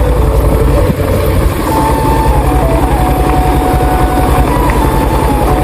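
A steady motorcycle engine rumble runs continuously at close range on a hill road, low and loud, with a slight dip about a second in before it carries on evenly.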